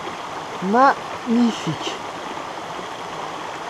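A mountain stream flows with a steady, broad rushing wash close by, while someone speaks a few short words over it.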